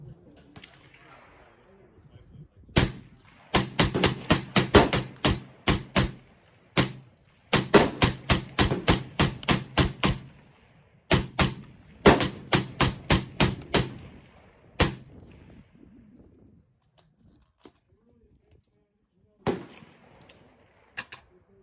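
Suppressed gunfire as a full magazine is fired through a suppressor fitted with a cover: sharp, evenly spaced shots in quick bursts and strings, with quiet gaps and a few scattered shots near the end.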